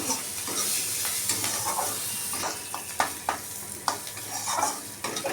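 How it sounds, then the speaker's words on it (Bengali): Potato pieces dropped into hot oil with a tempering of green chilli and whole cumin fry with a steady close sizzle, while a spatula scrapes and taps the pan in several distinct knocks. "এবার আমি এর মধ্যে দিয়ে দিচ্ছি আলুটা দিয়ে দিলাম আলুটা"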